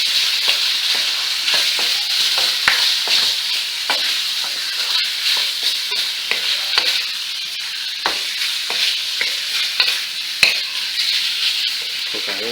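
Chicken stir-fried in oil in a pot, a steady loud sizzle broken by repeated scraping and stirring clatters of the utensil against the metal, with no talk.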